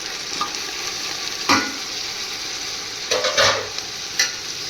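Vegetables sizzling in hot oil for a curry, a steady frying hiss broken by a few short scraping stirs of a spoon in the pan, with no talking.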